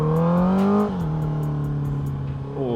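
Honda CBR650R inline-four motorcycle engine, close and loud, rising in a high rev that drops back to a smooth steady idle-like drone before climbing again at the end.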